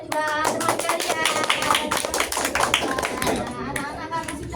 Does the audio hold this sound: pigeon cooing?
no